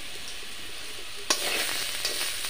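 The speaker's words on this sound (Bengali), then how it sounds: "আর একটু আমি ভেজে নেব।" Bottle gourd peel frying in raw mustard oil, a steady close sizzle that jumps louder partway through as stirring begins, with faint scraping under the crackle and no talk.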